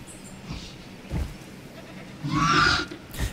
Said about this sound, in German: Boah, wie viele Ziegen hier rumrennen.